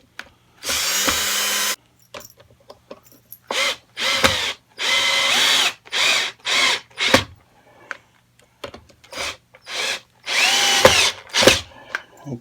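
A power drill drives new screws into an Epiphone Special II guitar neck in short repeated bursts, about a dozen whirring runs of varying length separated by brief pauses, close and loud with no talking.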